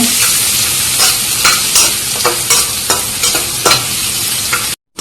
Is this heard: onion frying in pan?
yes